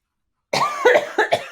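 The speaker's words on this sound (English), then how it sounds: "I'm about to have a big coughing fit." A close, loud burst of harsh coughing: several rough coughs in quick succession after a moment of silence.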